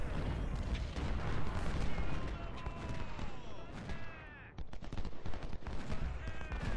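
Artillery fire rumbles and booms through a Civil War battle in Ultimate General: Civil War, a dense continuous barrage of overlapping shots with whistling shells, briefly dipping before more blasts.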